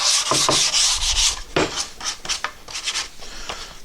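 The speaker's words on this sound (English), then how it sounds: "So, I just give it a light sanding." Light sanding by hand on a wooden pegboard wrench organizer, quick rhythmic rubbing strokes close up, scratchy and brisk, with short pauses between passes.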